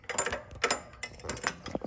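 A wrench tightening the motor mount on a Trailmaster mini XRX mini bike during chain adjuster replacement, a close run of quick metallic ratcheting clicks in short uneven bursts.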